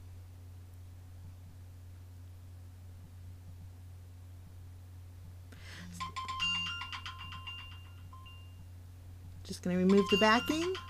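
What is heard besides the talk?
mobile phone ringing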